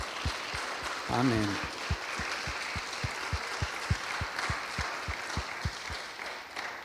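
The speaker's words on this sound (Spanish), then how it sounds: "Damos una honra al Señor con un aplauso" A church congregation applauds to honour the Lord, with steady, evenly spaced claps over a wash of crowd noise while a voice briefly speaks.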